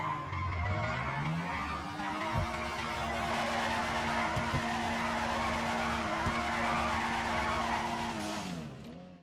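A car drifts and skids in GTA 5, tires squealing continuously with a loud, sustained screech over the revving engine, whose pitch rises and falls as the car slides through the corner.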